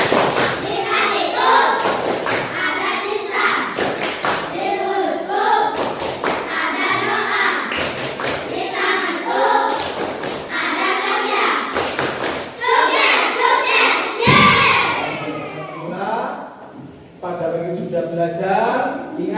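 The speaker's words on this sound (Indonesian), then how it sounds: "Oke, tepuk sukses." A class of schoolchildren performs a rhythmic success clap, with bursts of hand claps and thumps in a repeating pattern under loud, chanting young voices in a classroom.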